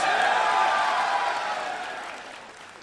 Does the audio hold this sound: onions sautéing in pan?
no